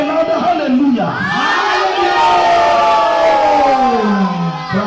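A church congregation at a Sunday morning service shouts and cheers praise together, a loud, sustained crowd roar with overlapping raised voices and rising and falling wails throughout.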